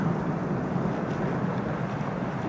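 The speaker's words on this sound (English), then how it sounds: "There's a big plane coming out." A large airplane passes overhead near a fishing spot at Porthkerry, giving a loud, steady broadband roar that holds at even strength throughout, with no voices over it.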